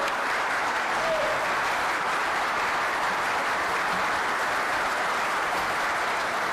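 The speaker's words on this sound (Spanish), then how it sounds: "Un fuerte aplauso, por favor" A crowd at the Honduras Conversa 2025 evening event applauds the presidential candidate and moderator, a loud, steady wash of many hands clapping that holds dense and even throughout.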